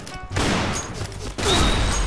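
Gunfire in the Point Blank video game, with two loud bursts of rapid shots in quick succession, close and dense, with a short gap between them.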